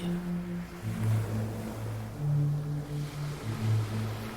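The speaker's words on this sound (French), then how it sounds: "La douce mélodie des vagues," Ocean waves wash and surge in slow swells, with a steady low droning hum running underneath throughout.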